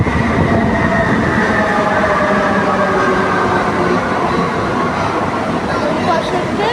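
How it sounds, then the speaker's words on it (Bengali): A metro train rolls into a station, its steady loud rumble and rail clatter filling the platform throughout with a continuous hum, faint voices blending into the background. "ওই দিকের ট্রেন আসছে।"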